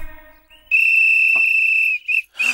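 A whistle blown hard: one long, shrill, steady blast lasting over a second, followed by two quick shorter toots, loud and close with nothing else beneath it.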